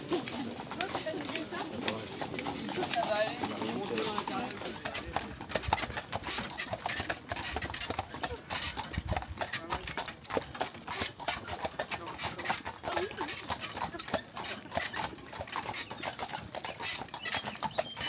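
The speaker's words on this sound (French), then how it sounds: "Allez les chevaux." Horses' hooves clip-clop steadily on a road during a pilgrimage procession from Lisieux to Alençon, a continuous rhythmic clatter under people talking in French.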